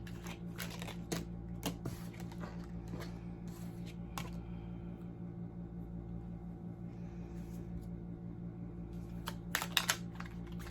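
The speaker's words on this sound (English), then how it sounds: "God, am I a bad shuffler?" Tarot cards are shuffled by hand in short papery riffles and taps. The clicks come in bursts at a close, quiet level, with a soft pause in the middle.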